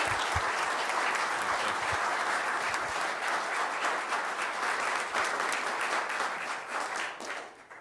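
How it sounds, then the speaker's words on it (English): Applause at a village board meeting in Gurnee, a roomful of people clapping steadily and densely, loud and sustained before fading out near the end. "another round of applause for the great work that they do every day"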